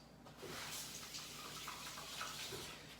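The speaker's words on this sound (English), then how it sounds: "Wash my hands." Steady running tap water in a kitchen sink while hands are washed, a continuous soft splashing hiss throughout with no talk.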